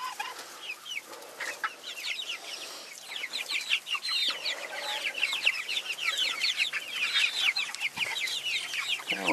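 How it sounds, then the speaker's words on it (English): A chicken clucks close by, a busy run of short, rhythmic clucks and chatter that continues steadily and fairly loud with no talking. "I got a chicken that's interested in my shoe."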